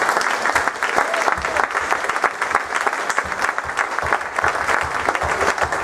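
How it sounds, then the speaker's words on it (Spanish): A church congregation claps loudly and steadily at a united worship service, with dense crowd applause sustained throughout and no clear break. "Un aplauso a nuestro Rey."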